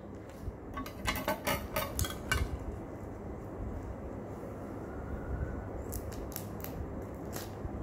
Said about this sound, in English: So now I'm going to use a scissor and cut it.